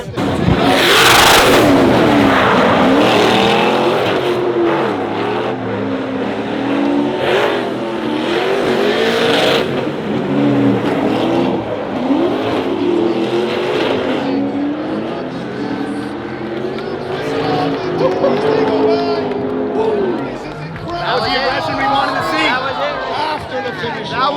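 A race car in a drift competition driven aggressively, engine revving hard and rising and falling with repeated bursts of tire squeal, loud and close, with a commentator talking over it much of the time.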